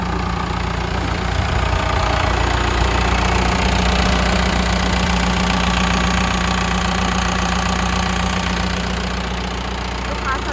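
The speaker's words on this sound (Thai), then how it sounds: "คันนี้จะเป็นเครื่องยนต์โคมาสู40 นะคะ" A loud diesel engine of a Komatsu FD25-11 forklift idling close by, a steady low rumble with a continuous mechanical knock that holds constant throughout.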